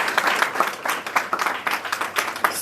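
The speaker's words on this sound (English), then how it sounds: "Let's just give him a round of applause." Audience applause at a university faculty research day presentation, a dense, steady patter of many hands clapping at close range that lasts the whole short stretch.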